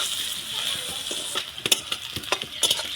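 Chopped onions frying in oil, a steady hiss of sizzling broken by clinks and scrapes of stirring in the pan.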